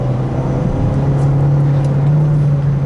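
A Renault Duster 2.0 automatic's engine drones loud and steady from inside the cabin, its low hum holding firm as the car accelerates hard.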